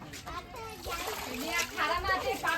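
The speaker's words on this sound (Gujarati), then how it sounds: "હમણાં પાણી ભરીએ" Water splashes and sloshes steadily as containers are filled at a village water source facing shortages, with faint children's voices in the background.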